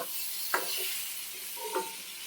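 Eggs being sautéed in a spice masala in a pan, a soft sizzle with two brief stirring knocks. It is quiet and short, with no talking.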